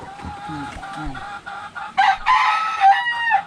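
A rooster crows loudly in a long, wavering call, preceded by a few short clucks from nearby chickens.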